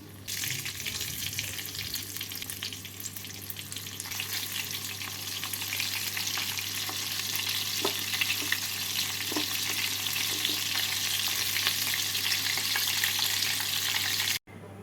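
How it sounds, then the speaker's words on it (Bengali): Prawns shallow-frying in a pan, a constant even sizzle with occasional soft pops, close and steady for the whole stretch before cutting off abruptly, no one speaking. "বাকি প্রনগুলোকে একইভাবে ভেজে নিচ্ছি"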